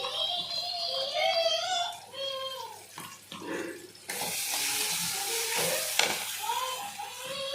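Prawn curry with mustard paste is stirred in a pan, turning into a broad sizzling scrape in the second half, while someone talks over it.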